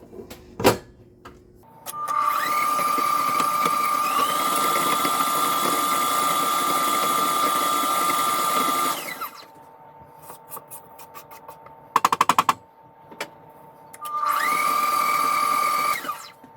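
An electric mixer whirs steadily while blending brown sugar and granulated sugar, running for several seconds, pausing amid a few clatters, then starting up again with a rising whine.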